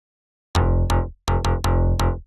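A punchy Yamaha DX7 synth bass patch in the style of 80s tracks plays loud and alone. After a moment of silence it gives six short, plucky notes in a syncopated rhythm, each one bright on the attack and then decaying.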